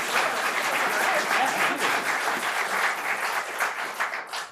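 An audience at an environmental stewardship awards ceremony applauds for several seconds, dense steady clapping that fades out at the end.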